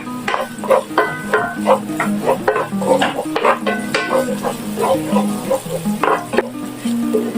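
Garlic sizzles in a pan for Hungarian chicken paprikash, a steady close frying hiss with scraping stirs and light clinks of utensil on pan throughout.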